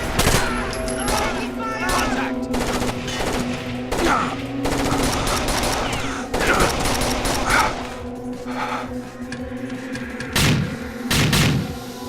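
Gunfire from the tactical shooter video game Rainbow Six Vegas 2, dense overlapping bursts and rapid automatic shots with heavy thuds, continuous and loud across the whole stretch over a steady game soundscape.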